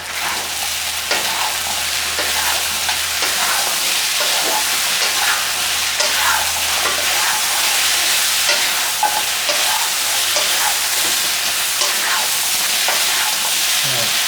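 Spare ribs coated in a honey char siu glaze stir-fry over high heat with a loud, continuous sizzle, and a spatula scrapes and tosses rhythmically throughout.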